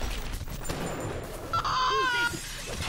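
Shotgun firing exploding buckshot in BioShock, with a burst of blasts and crackling fire-like impacts and a brief whining tone, heard among ongoing game background noise.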